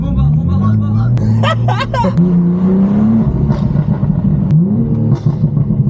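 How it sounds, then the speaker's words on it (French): A loud engine of a heavily modified M2 revs and roars past, its pitch climbing and falling, with people chattering in the background. "Ça c'est une vraie bagnole"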